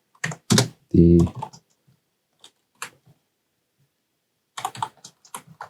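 Computer keyboard typing in a few short clustered bursts of key clicks, close and fairly loud, separated by quiet gaps and a brief spoken word.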